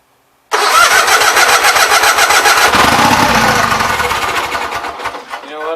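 A Gravely 8199KT tractor engine cranks and catches abruptly, then runs loud and close with a rough, pulsing idle that falters and surges near the end, no speech over it.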